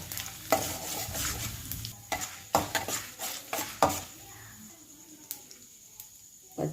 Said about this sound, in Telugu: ఎండుమిర్చి, జీలకర్ర ఇవి మాడిపోకుండా ఫ్రై చేసుకోవాలి